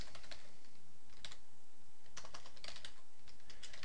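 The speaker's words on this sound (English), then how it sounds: "So I'm going to type in a related field," Computer keyboard typing in short, close bursts of crisp key clicks, with uneven clusters of taps and brief pauses, over a faint steady background hum.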